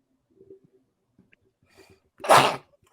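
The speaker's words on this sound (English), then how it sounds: "hold on, I gotta sneeze" A single sharp, loud sneeze bursts out after a few soft, faint background noises, then quickly fades to quiet.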